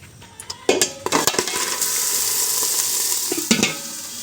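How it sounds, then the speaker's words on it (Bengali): Garlic, cumin, fennel and garam masala pastes drop into hot oil for a Bengali khichuri. A loud sizzle and spattering frying follow, with a spoon stirring and clinking against the pot in quick bursts. "তো এগুলো আমি এখন দিয়ে দেবো তেলের উপরে,"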